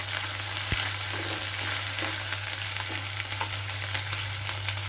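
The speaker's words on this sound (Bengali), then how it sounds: "বেটে রাখা মশলা দিয়ে তেলের সাথে কিছুক্ষণ ভাজবো" Ground ginger-garlic paste and nut paste fry in oil in a pan for a broiler chicken roast, producing a constant loud sizzle with light spatter and an occasional soft stir, with no one talking.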